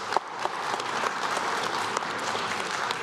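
Audience applause after a talk at a conversation event, a dense steady wash of many hands clapping for about three seconds, moderately loud and unbroken, with no voices over it.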